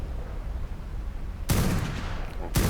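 Rapid gunfire from a cave level in a shooter video game, bursts of shots starting midway and continuing loudly to the end, with a fresh volley at the close.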